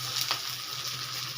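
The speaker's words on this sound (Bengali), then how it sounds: "দেখুন পেঁয়াজটা লাল লাল করে ভাজা হয়ে গেছে" Chopped onions fry in oil in a pan, giving off a steady soft sizzle close by with one brief sharp crackle partway through.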